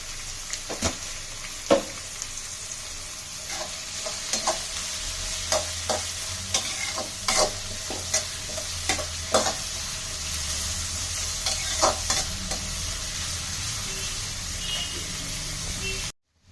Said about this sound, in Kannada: ಈಗ ಆನಿಯನ್ ನಾನು 5 ಮಿನಿಟ್ಸ್ ಫ್ರೈ ಮಾಡ್ಕೊಂಡೆ ಎಣ್ಣೆಲೇನೆ